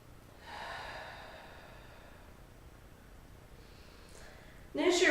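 Steady breathing in and out during an ab workout, with a long soft exhale early on and a sharp, louder breath burst at the end, heard close and alone without talk.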